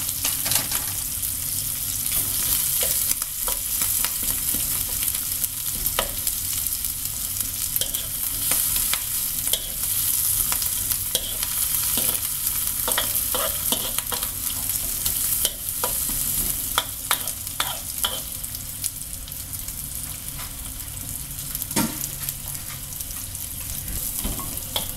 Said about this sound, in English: while the dried shrimps are cooking, we'll add in the onions as well.